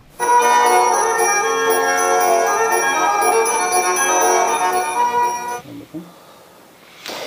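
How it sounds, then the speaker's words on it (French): Bright, sustained reedy chord from a Saratov garmonika accordion with small bells, ringing bell-like overtones, loud and close, stopping abruptly before a few faint knocks at the end. "Les garmonikas de Saratov comprennent aussi de petites cloches."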